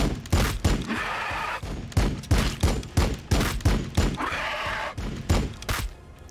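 Units in Warhammer 40,000: Battlesector, including Genestealer Broods, trade a sustained volley of loud, close gunshots, sharp reports firing in quick irregular succession for several seconds with no talk.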